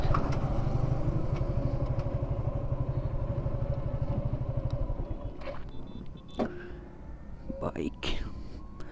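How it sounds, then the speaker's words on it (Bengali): A Suzuki Gixxer SF motorcycle, parked on a bridge, idles with a fast, steady low putter that dies down partway through, followed by scattered clicks and handling noises close by. "এই হচ্ছে যে আমার বন্ধুর বাইক, জিক্সার এসএফ"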